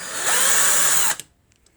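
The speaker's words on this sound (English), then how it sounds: "Hole is drilled. Notice the drill that I'm using." Power drill boring a hole in a Titanic wreck model diorama: one loud, close, high whirring burst lasting about a second, ending abruptly in quiet.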